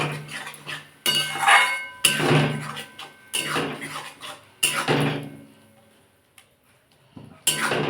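A spatula scrapes and clinks against a pan while Bhola fish curry masala with mustard, tomato and capsicum is stirred and fried down, in repeated close bursts with a quiet pause near the end and no talking.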